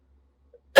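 A single short cough bursts out at the end, close and loud, after near silence, from a teacher with a cold during a physics lesson.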